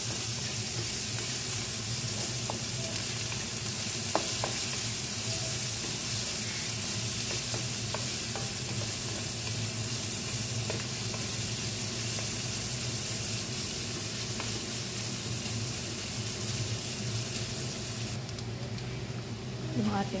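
Garlic and onions sautéing in a pan give a steady, close sizzle and frying hiss that runs throughout, with scraping stir sounds over it and voices talking now and then.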